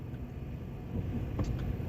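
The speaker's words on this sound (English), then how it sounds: "waiting for this car to pass us by" A car passing by on a road during a driving lesson, a low rumbling engine swelling slightly louder toward the end, moderately close, without speech.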